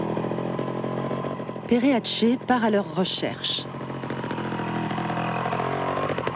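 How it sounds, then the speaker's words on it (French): A motorcycle engine idles steadily throughout in Andorra's Pyrenees, with someone speaking briefly over its continuous rumble. "grâce aux motos, on peut grimper partout sans se fatiguer"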